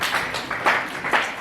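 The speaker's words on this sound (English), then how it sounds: "In fact, she deserves a standing ovation. Let's stand and clap for her." A short stretch of steady audience clapping during a standing ovation at a talk on gossip in political campaigns, dense and continuous with a few louder swells.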